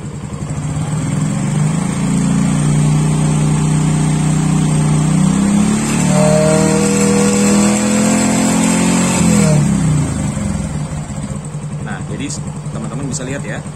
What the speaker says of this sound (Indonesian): Sekarang saya akan tambahkan RPM-nya.